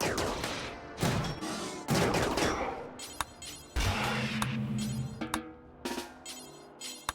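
Combat gunfire in the RimWorld colony game, with dense overlapping shots and bursts over several seconds, loud and close, with sharp impacts and crashes in the mix.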